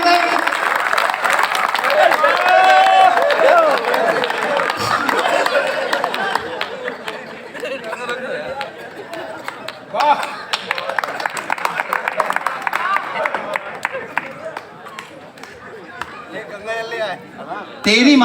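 An audience at a Hindi kavi sammelan comedy poetry recital breaks into loud, sustained applause and chatter, the clapping thinning to scattered claps as a voice talks over it.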